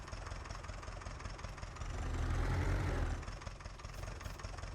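A tractor engine idles in Farming Simulator 19, a low steady rumble that swells briefly louder midway before settling back, with no talk.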